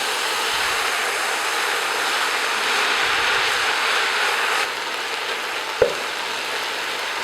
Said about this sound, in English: now the whole thing has to be fried together